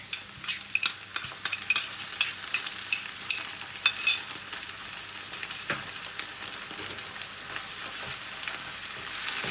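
Ginger garlic paste fries over lowered heat in a pan for chicken curry, giving a soft continuous sizzle with crackles and occasional stirring scrapes, fairly quiet and with no talk.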